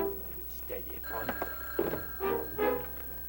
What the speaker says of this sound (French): Ça fait 12 fois que je me fais déranger par le téléphone le matin.